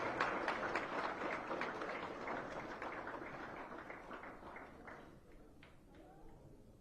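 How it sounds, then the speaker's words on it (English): An audience at a book release ceremony claps steadily, a dense patter of many hands that slowly thins and fades over several seconds in a large hall. "With a good round of resonating applause."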